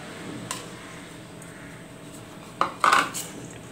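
Grated coconut and sago mixed in a bowl for javvarisi puttu give faint scraping under quiet room tone, with a few sharp utensil clinks against the bowl near the end.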